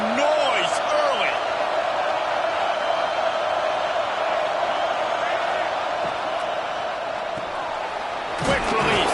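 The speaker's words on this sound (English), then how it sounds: "This crowd bringing the energy and noise early." A steady roar from the football stadium crowd at an Ole Miss vs Notre Dame game, with loud sustained cheering and a commentator talking over it throughout.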